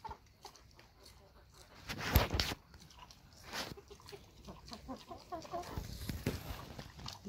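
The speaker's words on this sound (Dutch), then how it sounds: "De kippen zijn relaxter" Chickens cluck and murmur close by in short, scattered calls, with a few louder rustles and bumps mixed in.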